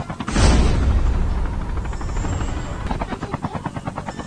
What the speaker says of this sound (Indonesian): Kayaknya dia pakai helikopter juga nih.